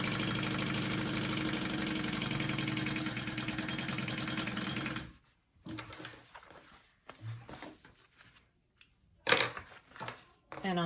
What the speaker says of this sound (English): I'm just going to sew this pocket shut real quick